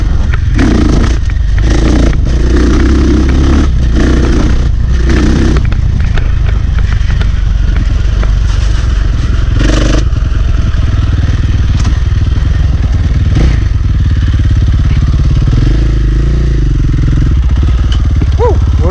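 A motorcycle carrying a mounted GoPro rolls along, its engine a constant loud rumble buried in heavy wind buffeting, with scattered thumps and a rider's voice heard over the noise.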